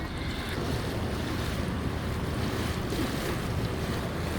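A sun-themed river tour boat cruising along the San Antonio River Walk, steady water wash and wind noise buffeting the microphone, continuous and fairly loud with no voices.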